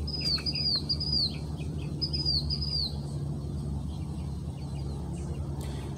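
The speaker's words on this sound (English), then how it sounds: "You hear the birds chirping" Birds chirp in quick repeated tweets early on, then fade into a steady low hum with only scattered faint calls.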